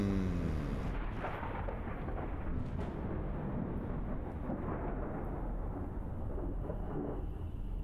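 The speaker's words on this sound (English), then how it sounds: "Man, Neptune's pretty stormy today, ain't it?" Stormy thunder on Neptune in a video game rumbles steadily and loudly for the whole stretch, a dense low roar with rolling booms and no talk over it.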